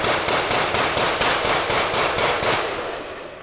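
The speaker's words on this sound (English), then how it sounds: "it's like they're communicating with gunshots" Gunshots echo around a rural stretch of Monticello Road: a dense, continuous run of sharp cracks and booms that stays loud and roughly even for several seconds, then tails off slightly, with no voices.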